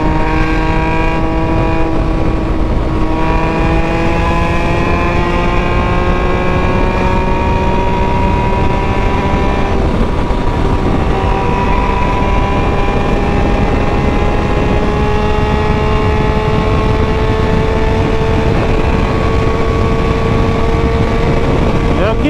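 Loud, continuous Tiger motorcycle engine drone that climbs steadily in pitch as it accelerates, with a brief dip before rising again; a voice is faintly heard.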